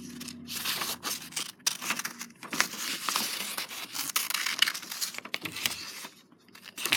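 Scissors snip out paper notebook pages, giving a string of close, crisp cuts and rustling paper handling with short pauses between strokes, fairly quiet and without talk.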